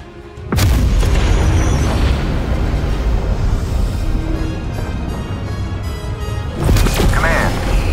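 A massive weapon-fire explosion in Call of Duty Black Ops Cold War zombies mode, a loud deep booming blast that rumbles steadily for about six seconds and ends in a second heavy burst.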